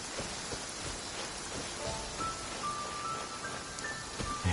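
Steady rain falls in the video game Genshin Impact, a soft, even hiss of drops throughout with faint game tones in the background and no speech.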